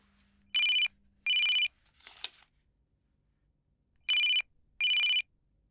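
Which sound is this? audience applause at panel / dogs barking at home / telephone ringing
telephone ringing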